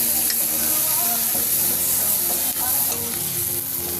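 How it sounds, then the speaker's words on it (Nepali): Vegetables with tomato, turmeric and salt sizzling steadily in a hot pan, with scraping stirs over a constant loud frying hiss. "त्यसपछि चलाउँछु।"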